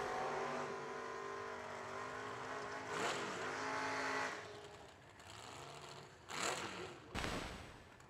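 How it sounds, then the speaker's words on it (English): Toyota drag car doing a burnout at the starting line before a race: a steady, loud engine roar with tire noise that holds for several seconds, then sharp bursts and revs near the end. "Rob Lukens warms up the tires in his Toyota"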